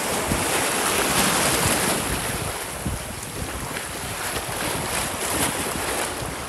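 Strong sea waves breaking on the beach at Gành Dầu: a loud, continuous roar of surf with wind buffeting the microphone throughout and no voices.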